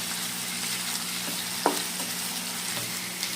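Sliced onions frying hard in hot oil over a high flame for beresta, a steady broadband sizzle with a couple of soft stirring clicks, close and continuous with no talk.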